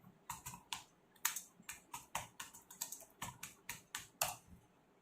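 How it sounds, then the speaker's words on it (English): Keys clacking on an Acer Aspire 4736 laptop keyboard, a steady run of crisp, close taps with irregular rhythm and no talking. "the keyboard is a little noisy"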